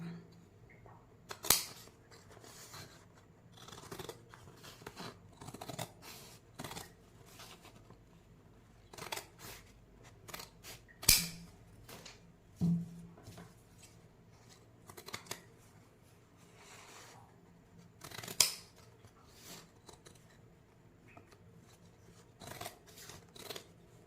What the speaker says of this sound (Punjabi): ਹੁਣ ਇਹਦੀ ਕਟਿੰਗ ਕਰ ਦਾਂਗੇ